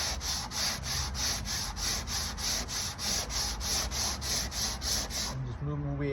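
Hand block sanding the edge of a VW Transporter rear door, a close, steady back-and-forth rasp in about a dozen even strokes that stop near the end, leaving a faint tone.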